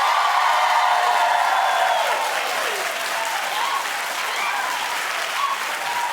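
A television studio audience at The Wendy Williams Show claps loudly in a steady, sustained round of applause that eases slightly toward the end, with faint crowd murmur mixed in.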